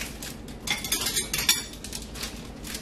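A kitchen knife scrapes and clinks through a sharpener in short metallic strokes, several bright rasping passes close up.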